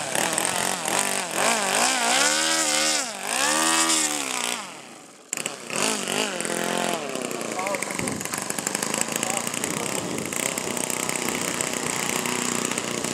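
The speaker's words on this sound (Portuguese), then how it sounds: "Motor 4 tempos" A four-stroke ultralight aircraft engine runs near the microphone during a pre-takeoff test, revving up and down with a brief drop around mid-clip before settling into a steady loud drone, with speech over it.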